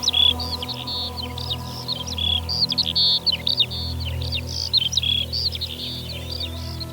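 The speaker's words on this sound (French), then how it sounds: "Voici un oiseau rare et même très rare en Bretagne." A shrike, rare in Brittany, sings in open country at Ploufragan in the Côtes d'Armor, giving a steady stream of high, scratchy chattering notes over a low continuous hum.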